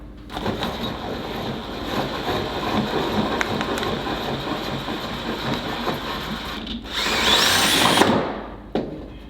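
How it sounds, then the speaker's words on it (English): A power drill whirs steadily up close, drilling a hole in a sailboat hull, ending in a brief higher-pitched whine as the bit finishes, then stops. "it's another one of those times that I've got to drill holes in the boat"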